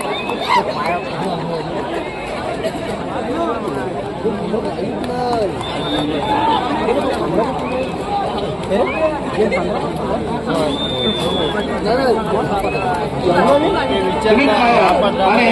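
A large crowd at a sports ground during a high-stakes match between two teams keeps up dense, steady chatter and babble, with many overlapping voices close by throughout.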